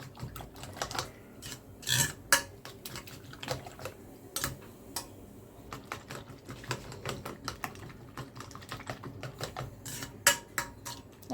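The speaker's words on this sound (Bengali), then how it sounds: "আর এই যে এখন ডিম একদম ফেটে নেব।" A fork or whisk clicks and scrapes rapidly against a bowl while eggs are beaten for fried eggs with tomato, onion and dried chilli, in quick irregular bursts, close and fairly quiet.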